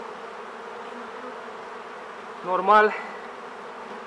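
A steady, dense buzz of many honeybees at an open hive hums throughout, with a brief spoken word briefly rising above it near the end.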